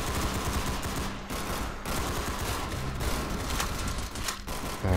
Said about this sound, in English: Now we're on the paintball gun.